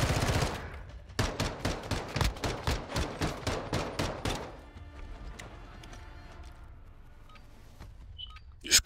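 Rapid automatic gunfire in Modern Warfare 2 multiplayer, a sustained burst of about a dozen loud, evenly spaced shots, then quieter scattered game sounds and a final sharp report.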